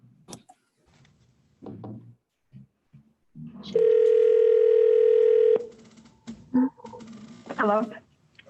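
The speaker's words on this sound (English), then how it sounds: "Okay, Ms. Collins, I'm gonna call your phone because you're breaking up badly again." A steady telephone dial tone holds for about two seconds while a call is placed, framed by a few short clicks and thumps before it and brief tones and rustles after.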